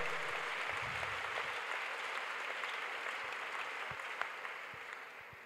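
A church congregation applauds in sustained, dense clapping that fills the room steadily, tapering slightly toward the end with a few sharper claps standing out.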